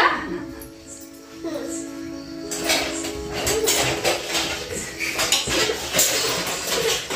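Spoons and dishes clink and clatter in a home kitchen during a birthday celebration while someone searches for a spoon, starting quietly and turning into busier metallic rattling, with voices speaking nearby.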